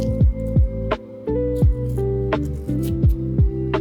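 An onion washed in water in a miniature kitchen, giving repeated wet squishing and dripping sounds in an uneven rhythm, close and fairly loud.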